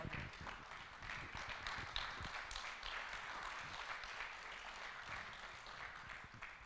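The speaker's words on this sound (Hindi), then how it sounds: "तालियां इस दोस्ती के लिए, तालियां इस जज्बे के लिए।" Audience applause for doctors honoured as frontline fighters against Corona, a dense wash of many hands clapping that holds steady and fairly loud throughout, with no voices over it.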